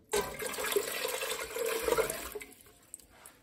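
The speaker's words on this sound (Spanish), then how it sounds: "Le voy a agregar otro medio litro de agua." Half a litre of water is poured into a pot for peanut atole sweetened with piloncillo. The gushing, splashing pour runs steadily for about two and a half seconds, then tapers off into quiet drips.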